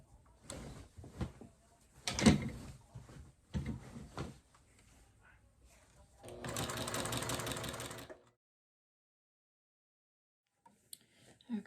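A sewing machine stitching quilt binding in short separate runs with pauses between them, then one longer steady burst of stitching, close and fairly quiet, followed by near silence with a few faint clicks.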